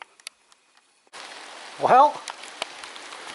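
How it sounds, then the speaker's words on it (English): Rain falls, starting abruptly after a second of near quiet and then holding as a steady close hiss of drops on surfaces, while someone speaks briefly over it. "we're finally getting our rain"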